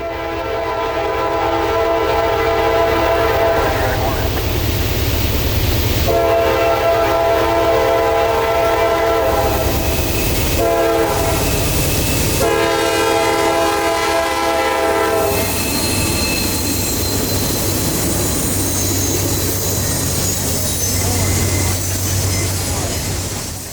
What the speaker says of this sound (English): this train would interestingly blow the full pattern for the private crossing